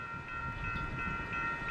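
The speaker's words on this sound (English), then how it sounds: "pretty long stack train." Long double-stack freight train rolling past on a windy day, a continuous low rumble of cars with a steady tonal ring from the wheels and rails.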